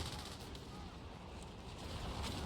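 Stuka dive-bomber barrage in the video game Company of Heroes 3, during a 4v4 battle at El Alamein: a continuous rumbling wash of explosions and gunfire, dense and steady throughout with no clear gaps.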